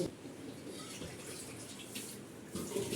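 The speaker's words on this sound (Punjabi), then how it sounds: "ਤੇ ਲਓ ਜੀ ਇੱਧਰ ਪਾ ਲਿਆ ਆਪਾਂ ਠੰਡਾ ਪਾਣੀ" Cold water pours from a bottle into set curd for making lassi, a soft steady trickle and splash that stays faint and continuous, with a slight swell near the end.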